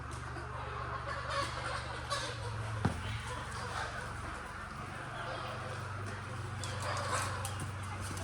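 Free-range country chickens in a farm shed, their clucking and calls spread through a steady background murmur, with a sharp bird cry near the middle.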